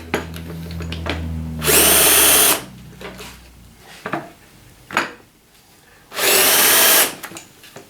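A power drill drives a Beal countersink into wood, chamfering holes in two loud, sustained bursts of whirring with quieter workshop clatter between them.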